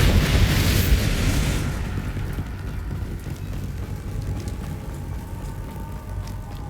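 A Bombarda spell in Hogwarts Legacy detonates in a loud, hissing, rumbling explosion that decays over several seconds into a low, steady rumble.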